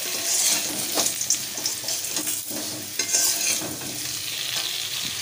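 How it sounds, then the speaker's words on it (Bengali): Thinly sliced medium onions frying in hot oil in a pan, a continuous loud sizzle with repeated scraping stirs of a spatula, close by and with no talking. "পেঁয়াজটাকেও বেশ লাল করে একটু ভেজে"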